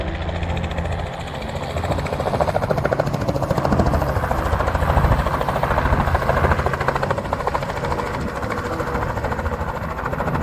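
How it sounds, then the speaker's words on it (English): A helicopter preparing for an oceanfront tour flight in Myrtle Beach, South Carolina, runs with a steady, loud engine whine and rhythmic rotor chop, heard close and continuous throughout. "We are here getting ready to go on a helicopter ride in Myrtle Beach, South Carolina"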